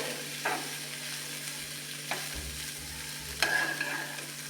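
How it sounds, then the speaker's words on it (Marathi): Cooked rice being stirred and mixed in a pan for paneer pulao: quiet soft scraping with a few spoon knocks against the pan over a low, faint background. "आता यामध्ये घालतीये मी शिजवलेला भात हे मिक्स करून घेऊया"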